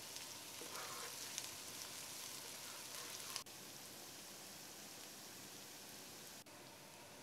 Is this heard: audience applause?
no